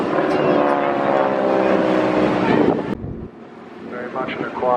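A Harvard training aircraft with a big piston engine in the nose drones loudly overhead at an airshow, then cuts off abruptly as a quieter open-air background takes over.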